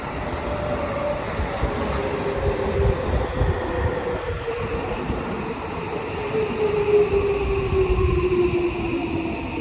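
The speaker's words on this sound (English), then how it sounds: "So the train is coming." A commuter train pulls into a Japanese railway station with a steady rumble and rolling wheel noise, while a falling tone glides down as the train slows, fairly close and continuous, with no speech over it.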